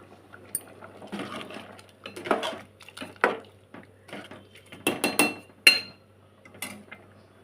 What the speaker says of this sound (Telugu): మసాలా ముద్ద వేసాను, కలిపేసుకొని కాసేపు ఉడకనిద్దాం.